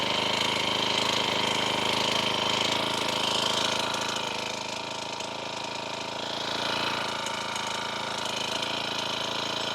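A small gasoline engine with a dirt-bike-style throttle idles steadily while warming up outdoors during fence building, a continuous loud mechanical drone with a slight dip in level midway and no talking.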